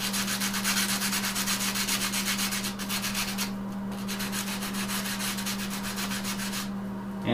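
Delicate wooden fretwork sanded by hand to remove carbon paper lines, a continuous rapid back-and-forth rubbing close up, steady and fairly loud under a constant low hum.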